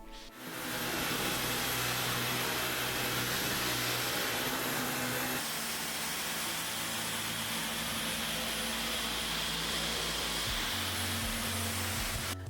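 A Dyson V15 Detect cordless vacuum cleaner runs close and loud with a steady whirring roar, its pitch and tone shifting slightly a couple of times as it keeps going without a break.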